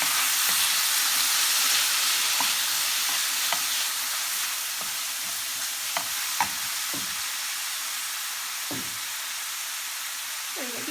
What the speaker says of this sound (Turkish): domateslerimizi de ilave ettikten sonra şöyle bir karıştıralım